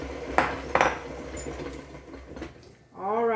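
A utensil stirs pumpkin roll batter in a bowl, giving a few distinct scraping clinks near the start, then softer stirring, with a voice speaking at the end.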